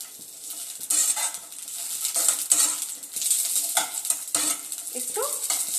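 Chilli, garlic, cashews and tomato frying in oil in a hot wok, with a bright, steady sizzle and crackle broken by a few scrapes and stirs of a utensil, close and fairly loud, with no voices.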